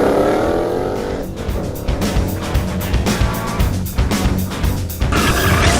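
A loud Ford Mustang GT engine with Borla exhaust roars and revs in a tunnel, booming and reverberant, rising and falling without a pause.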